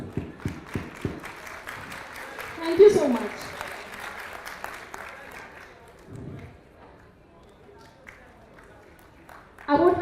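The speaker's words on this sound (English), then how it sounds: "Please have a round of applause." An audience at a university campus session breaks into a round of clapping, with bursts of applause at the start and again near the end, mixed with a crowd murmur and a speaker talking over it.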